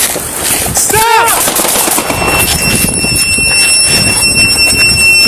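Gunshots fired by police deputies at a man advancing with a knife, with a rapid burst of loud cracks amid a harsh, noisy scene, along with shouting voices and a brief high squeal.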